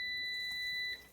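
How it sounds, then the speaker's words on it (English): Two steady electronic tones from a 1700-watt Power XL air fryer oven beep together loudly at close range when its rotisserie chicken cycle finishes, holding for about a second before cutting off. "Oh my goodness, hear the beep. It's done."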